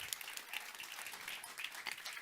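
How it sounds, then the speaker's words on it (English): Applause from a conference audience after a talk on building a global commons on food quality: a fairly soft, even round of clapping from many hands, heard at some distance. "Bigger round of applause for them, please."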